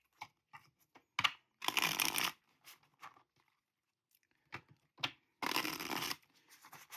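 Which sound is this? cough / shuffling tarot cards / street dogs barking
shuffling tarot cards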